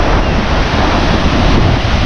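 Pacific Ocean surf where river water from the Andes meets the sea makes a loud, steady broadband wash, heavily mixed with buffeting wind noise on the microphone, with no voices.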